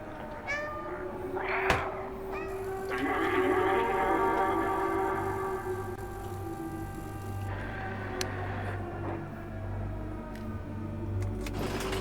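A cat meows in the video game Stray, a few clear, close calls with music and ambient tones running underneath.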